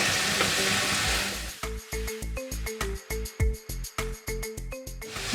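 Shallots, onion and curry leaves are stirred in a hot pan. A loud wash of sizzle opens the clip, then a spoon scrapes and knocks against the pan in a regular rhythm of close clatters over the frying.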